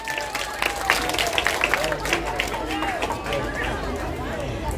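Crowd clapping at a Balinese village competition event, scattered applause mixed with chatter and a speaking voice over it.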